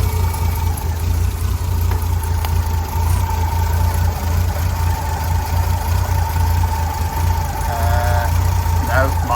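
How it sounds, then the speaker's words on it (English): A Triumph Mk1 PI car engine idles roughly and a little too slow, coughing and spluttering with a steady low rumble and a mid-pitched drone throughout, close and loud, with faint voices near the end. "It's coughing and spluttering a bit, so it's obviously a little bit low on the idle."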